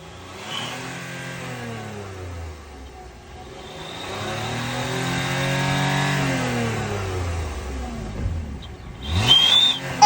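A car engine fitted with turbo sound simulators bought from Amazon revs up and falls back in long rising and falling sweeps, with a whistling hiss riding on top and a sharper burst near the end, loud and close.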